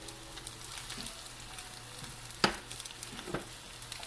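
Blackened tilapia fillets dropped into a hot pan start frying with a soft, low sizzle, broken by a couple of sharp clinks and spits close by.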